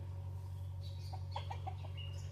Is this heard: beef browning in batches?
no